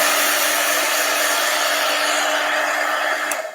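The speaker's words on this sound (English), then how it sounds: "you actually kind of want to hit it with a blow dryer" A blow dryer runs steadily at close range, blowing off glass being etched, a loud, even rush of air with a faint motor hum, cutting off near the end.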